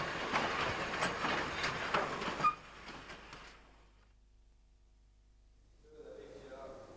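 A steam railway train at work, rattling and clattering close by for a few seconds before fading quickly into near silence, then a fainter rumble returns at the end.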